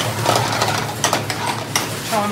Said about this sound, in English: The chef's going to make the papadum, so the oil is frying away.